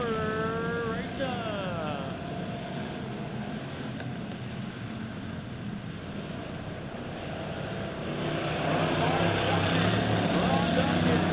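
Pure stock race cars roar around a dirt speedway after the green flag, engines droning loud and continuous with pitch sweeps as cars pass, swelling louder near the end while an announcer talks over the racing.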